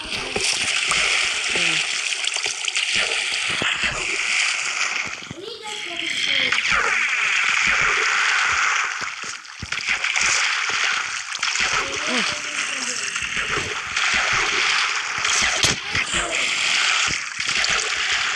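Water splashing in Minecraft gameplay, a loud rushing splash-and-wash that runs almost continuously, briefly easing midway, while someone talks over it.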